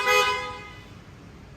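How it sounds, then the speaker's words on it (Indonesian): A modified horn on a Yamaha Fazzio scooter gives a single short, close honk that fades quickly, with a faint click at the end. "Klaksonnya jadi begini."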